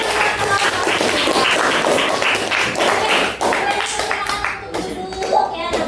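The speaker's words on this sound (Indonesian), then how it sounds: "Tepuk tangan sekali lagi." Pupils in an Indonesian science lesson clap their hands again: a dense, busy patter of many hands, fairly loud and close, with children's voices mixed in before it thins out.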